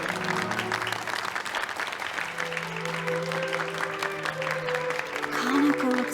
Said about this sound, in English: Give a round of applause to this young and talented singer